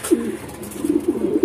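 Racing pigeons cooing on a rooftop, a soft throaty coo followed by a run of rolling, bubbling coos, close and moderate in level with faint background hiss.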